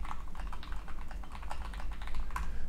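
Rapid typing on a computer keyboard during a World of Warcraft dungeon run, steady close clicking keystrokes with no talk.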